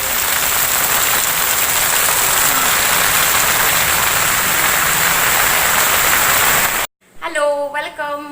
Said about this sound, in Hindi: बहुत जोर से वर्षा पड़ुची